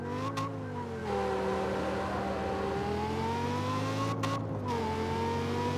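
Car engine in the CarX Street racing game, a steady, whiny high-pitched drone that shifts in pitch as it revs, continuous and loud with no talking.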